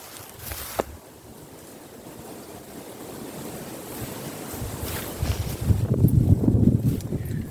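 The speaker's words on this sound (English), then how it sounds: "Oh, wind." Wind blowing outdoors in the open air, a steady rushing buffet across the microphone that builds to stronger low gusts toward the end, with no talking.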